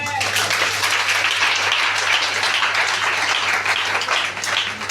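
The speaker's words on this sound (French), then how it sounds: "Acclamons Jésus." A church congregation applauds and claps together to acclaim Jesus, a dense, sustained wash of many hands held at steady loudness throughout, with a low hum running beneath.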